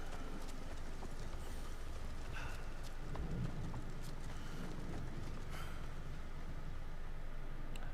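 Hooves clip-clop at a steady walking pace in Assassin's Creed Shadows, a continuous even rhythm of fairly faint thuds over quiet ambient game sound with no talking.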